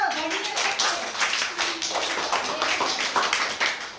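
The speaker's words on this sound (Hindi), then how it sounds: "ताली बजा दो।" Children at a summer camp activity clap together in a steady patter of hands, with voices mixed in throughout.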